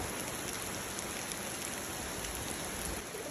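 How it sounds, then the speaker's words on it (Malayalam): Heavy monsoon rain on a rainy evening in Kerala, a dense steady hiss of drops striking surfaces, continuous and enveloping with no voices. "ഈ ഇടയ്ക്കുള്ള ഈ ഒരു പെരുമഴ നമ്മളെപ്പോലെ തന്നെ മക്കളും നല്ലോണം ആസ്വദിക്കുന്നുണ്ട്"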